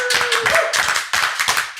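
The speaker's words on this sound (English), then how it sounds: "So we'll give a big round of applause to our guests." Applause for guests at the close of a comedy show, a burst of clapping that swells in several short surges, fairly close and dense, with a faint tonal sound running underneath early on.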